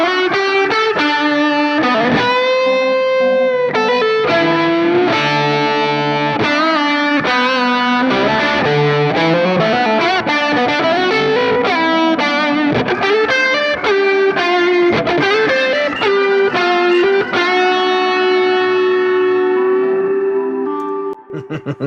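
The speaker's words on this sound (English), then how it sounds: "So here's what the solo and the B3 sounds like together." Distorted electric guitar solo plays sustained lead lines over a Hammond B3 organ in a full rock mix, loud and continuous with echo and effects, ending on a held note.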